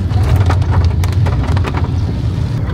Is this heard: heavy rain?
yes